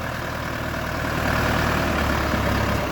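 A Dongfeng DF404G2 four-cylinder tractor engine runs steadily at a low, even idle, a close, continuous diesel drone with no voices over it.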